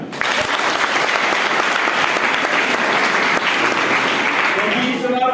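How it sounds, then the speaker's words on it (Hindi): Loud, sustained applause from a large audience at a direct-selling network marketing meeting, a dense steady clapping filling the whole stretch without letting up. "अपने लिए पर जोरदार ताली।"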